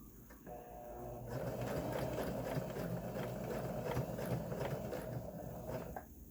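A sewing machine runs a zigzag stitch along a fabric face mask over an inserted twist-tie wire, giving a steady close whirring hum with rapid needle ticking for several seconds, starting and stopping cleanly, with no voices.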